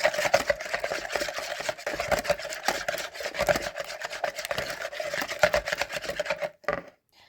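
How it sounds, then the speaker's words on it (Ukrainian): A whisk scrapes and clatters rapidly against a bowl while stirring a melted butter mixture for blueberry cookie dough, a brisk close rhythmic rasping that stops abruptly near the end. "І перемішуємо"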